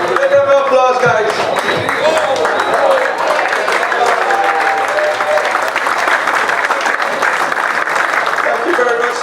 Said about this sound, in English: Give them an applause, guys.